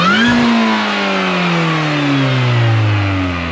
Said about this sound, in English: Literally, you hear the car whining as the power continues to grow.